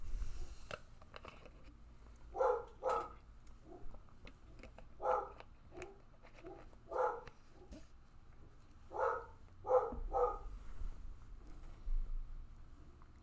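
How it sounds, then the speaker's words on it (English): A dog barks in short paired bursts, repeated several times with pauses between, somewhat distant against a quiet background. "A justified reason for barking."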